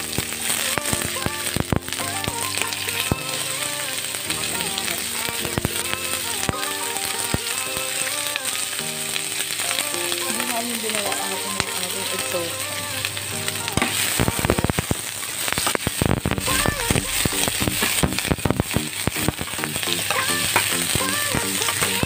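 Turkey and browning onions sizzle loudly and continuously in a pan for turkey in coconut milk, a dense close crackle with occasional stirring knocks and scrapes and music faintly underneath.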